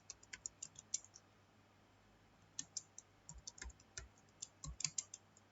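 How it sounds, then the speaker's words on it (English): Quiet, irregular clicks of a computer keyboard as an HTML program is typed in Notepad, coming in short bursts with brief pauses between them. "now we'll type the program"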